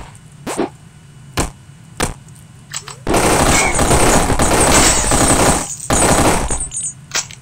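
Assault rifle gunfire in the SuperFighters video game: a few sharp isolated shots, then a long loud sustained automatic burst, a brief pause and another rapid burst.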